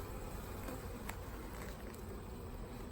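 Honey bees buzzing around an open single brood chamber hive in September, a dense continuous drone filling the whole moment, close and steady with no voices.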